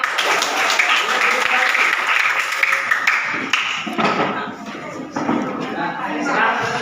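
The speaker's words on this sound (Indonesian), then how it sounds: "tepuk tangan anak-anak" Children in a classroom clap together, a loose, uneven patter of hands with taps, thumps and shuffling, while voices talk over and around the clapping.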